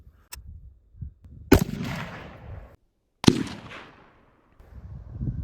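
Two sharp gunshots from a suppressed AR15 rifle with a homemade muzzle brake, each a loud close crack followed by a decaying echo, spaced well apart, with softer handling noises in between.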